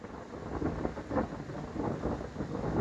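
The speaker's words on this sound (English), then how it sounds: "thunder" Distant thunder rumbles low and soft over a few seconds in a quiet outdoor Swedish Lapland setting, a faint rolling growl without any voices.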